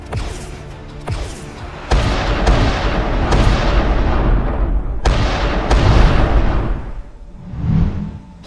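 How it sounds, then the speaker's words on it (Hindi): Rapid gunfire and booming blasts in an animated cartoon shootout, as smugglers fire continuously from inside a ship at the docks; loud, dense bursts repeat over several seconds, easing near the end. "उधर शिप के अंदर से स्मगलर लगातार फायरिंग कर रहे थे।"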